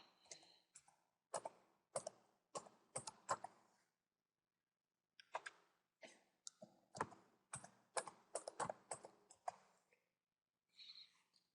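Keys clack on a computer keyboard as a username is typed, quick bursts of clicks split by a short pause, close and quiet with no talking.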